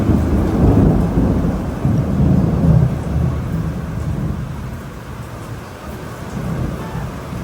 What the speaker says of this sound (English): there was a huge thunder and lightning storm